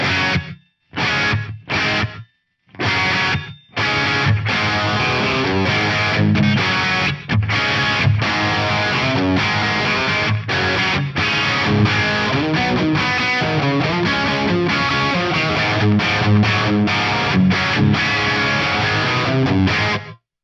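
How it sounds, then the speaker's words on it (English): Distorted electric guitar playing loud, dense chords through a Yamaha REV7 gated reverb, with a short, abruptly cut-off reverb tail, a few brief stops early on, then continuous playing. "The gated reverb is super cool on guitar."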